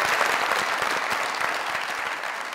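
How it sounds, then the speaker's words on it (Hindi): Steady audience applause, dense and continuous with many hands clapping, gradually easing slightly toward the end, with no voices over it. "बहुत तालियां यार एक।"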